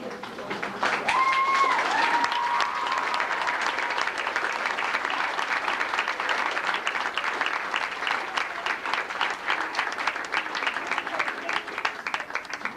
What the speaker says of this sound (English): Let's give them a big round of applause and stay there.